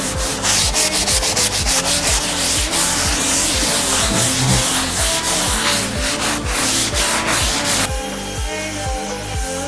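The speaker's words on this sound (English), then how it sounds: "I've done all the sanding on here now." Steady close sanding across an oak veneer desktop, a loud continuous rasping with rhythmic back-and-forth strokes throughout.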